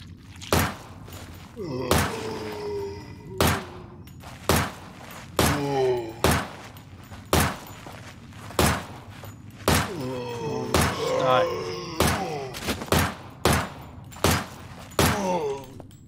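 Shotgun blasts in the survival horror game Nightmare of Decay, set in a mansion: about fifteen sharp, loud booming shots at a steady, unhurried pace, each with a short ringing tail. Some faint groaning sits between shots.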